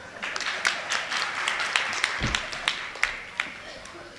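Audience applause breaking out during a Hindi political speech, a steady wash of many hands clapping with sharp individual claps standing out, moderately loud and continuous throughout.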